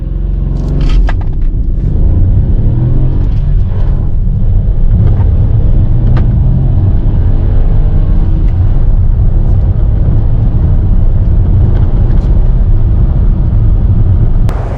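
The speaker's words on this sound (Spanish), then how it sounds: "pisamos el acelerador hasta las 2500 revoluciones y a ver qué pasa" A 2022 Hyundai Kona SUV with a manual gearbox revving up to about 2500 rpm, giving a steady, loud low engine rumble that holds throughout with no voices.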